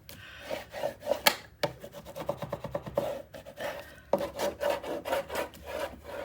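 Paper on a scrapbook album page is burnished by hand, producing close, quiet rubbing strokes in an irregular back-and-forth rhythm with brief pauses, with no voices.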